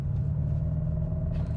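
A 2023 Mercedes-Benz EQE SUV, Alabama-built, plays its synthetic electric drive sound as a steady low hum with a faint tonal layer, continuous and fairly close, with no talking.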